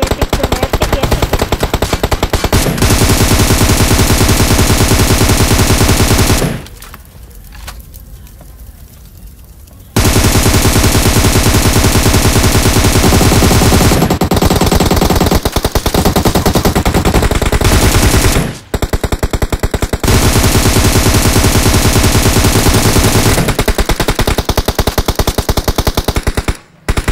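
An M762 rifle fires on full auto in a video game, producing loud, sustained bursts of rapid gunfire separated by a few short pauses.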